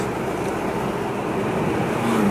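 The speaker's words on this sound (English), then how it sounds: "You can hear the turbo just echo off the walls of the trees" A Ford Focus ST's turbo engine drones steadily at close range on a forest road, a broadband rumble echoing off the trees with no talking, swelling slightly louder near the end.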